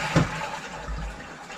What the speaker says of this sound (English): So this is the half flush, and this is the full flush.